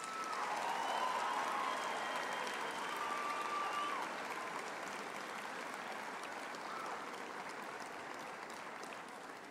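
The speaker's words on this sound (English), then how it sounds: "I would now like to ask our graduates to applaud their families, friends and spouses for their support over the years." Graduates applaud their families and friends at a university faculty graduation ceremony, a dense, steady wash of clapping from a large hall crowd that holds strong for the full stretch and only slightly eases toward the end.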